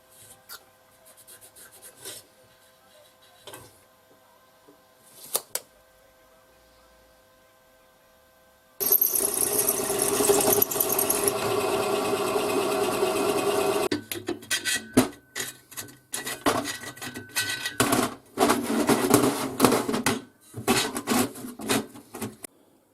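A homemade rotary tumbler for rust removal and deburring runs steadily, its motor mounted on threaded bar, turning the barrel with a dense rough whirring that stops and restarts in bursts after quieter handling clicks at the start.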